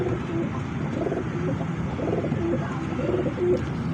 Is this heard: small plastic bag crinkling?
no